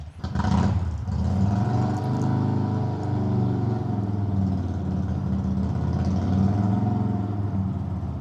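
A car idles nearby with a steady low engine rumble, continuous and unchanging throughout, with no talk over it.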